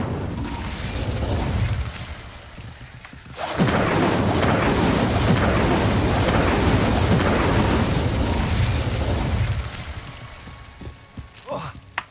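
Incendio fire spell cast in the Hogwarts Legacy video game: a sudden, loud roaring burst of flame rushes up and holds for several seconds before fading, with faint game ambience around it.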